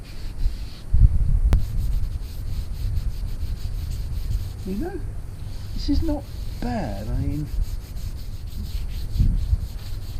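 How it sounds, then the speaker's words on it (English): Someone sands an RV wheel by hand, making a steady, scratchy rubbing that runs without a break under relaxed conversation. "I will admit sanding is a lot more labour intensive"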